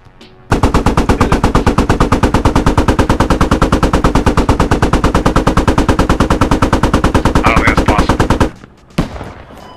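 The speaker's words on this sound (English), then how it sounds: "Yeah, I'm firing." In the military shooter Squad, a heavy automatic weapon fires at an enemy BTR armored vehicle. It is a loud, unbroken, rapid burst of shots lasting about eight seconds, close up, then stops abruptly and leaves a brief trailing thump.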